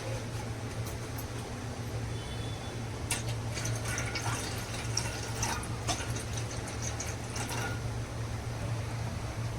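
Half a glass of water pours and trickles into a pot, a steady liquid sound over a low constant hum, with a few brighter splashes midway.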